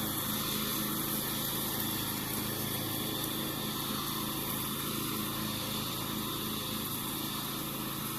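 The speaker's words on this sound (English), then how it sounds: "this is his first time mowing on a riding lawnmower" A riding lawnmower drones steadily while mowing a residential lawn, its engine a constant, fairly distant hum with no voices over it.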